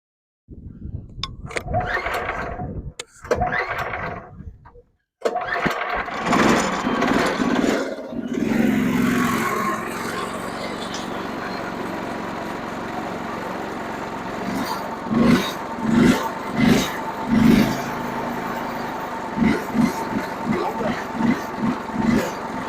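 A stuck sawmill engine is pull-started with a couple of rope tugs, catches, and runs loud and rough nearby, surging and sputtering unevenly while someone talks over it.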